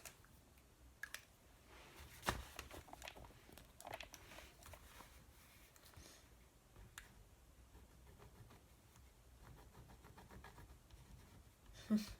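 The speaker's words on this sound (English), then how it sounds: "I might forget, so I write it down" Pen on paper, someone jotting a note by hand: soft scratchy strokes and small taps, faint and close, with a couple of sharper knocks and quiet pauses between bursts.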